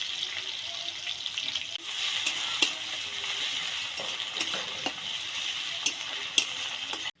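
Chopped onion and garlic paste frying in oil for chicken khichuri, a steady hiss of sizzling with occasional sharp clicks and stirring sounds, close and continuous until an abrupt stop.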